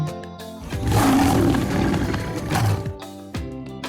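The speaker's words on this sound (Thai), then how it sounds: "เอกลักษณ์หนึ่งของสิงโตอันเป็นที่ลือเรื่องก็คือเสียงคำรามอันทรงพลัง" A lion gives a deep, powerful roar, loud and close, in two long rumbling bursts separated by a short pause.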